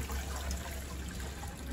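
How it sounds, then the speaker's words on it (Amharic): Lukewarm water poured into chickpea flour, a short, soft, continuous liquid pour with a faint trickling wash, close and quiet. "ለብ ያለ ውሃውን አድርገን ዱቄታችን እናደርጋለን"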